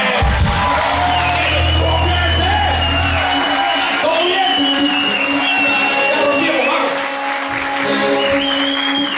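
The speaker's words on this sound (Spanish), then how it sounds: "¡Aplausos hoy día, esta noche!" An audience at a Time Machine show in Melipilla applauds and cheers, loud continuous clapping mixed with whoops and shouts, with voices rising over the crowd.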